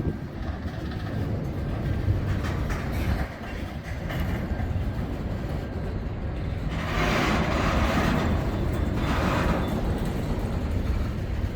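A long Canadian National freight train rolls past in Green Bay, a continuous close rumble with clattering wheels that grows slightly louder toward the end.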